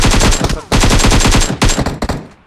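Rapid automatic gunfire in PUBG Mobile, loud and close, in two dense bursts followed by a few shorter shots trailing off, with no talk over it.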